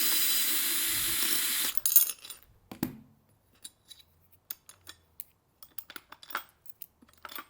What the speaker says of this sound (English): Using a 17mm socket, remove the two lock nuts and two washers